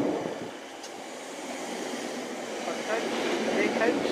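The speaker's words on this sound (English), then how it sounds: "Here's a Bakerloo Line train." A London Underground Bakerloo Line 1972 stock train passes the platform at South Kenton, a steady wash of rolling rail noise and wind with rising squeals toward the end, heard from nearby.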